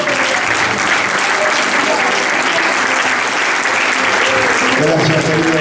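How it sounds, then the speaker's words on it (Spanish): A Pentecostal church congregation breaks into loud, continuous applause, a thick wash of many hands clapping at once with crowd voices blended in, steady and full throughout. "Aplauso fuerte al Señor"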